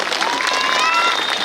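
A crowd claps loudly and steadily at a speech during a mass wedding at Janaki Mandir in Janakpurdham. The applause is a dense, continuous patter with a few faint whistles on top.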